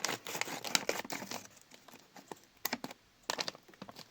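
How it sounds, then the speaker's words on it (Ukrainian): A paper surprise packet being opened, with bursts of crinkling and tearing paper in quick irregular clusters, close and fairly quiet, with short pauses between handling sounds. "А сьогодні ми відкриємо ось цей пакетик."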